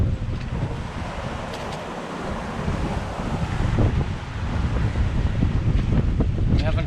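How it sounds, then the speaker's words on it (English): Strong wind and rough ocean waves surround a small trimaran sailing singlehanded to Hawaii between two hurricanes, a steady loud roar of gusts and breaking water with hull wash and spray, growing fuller toward the end. "It's pretty darn windy and pretty wavy"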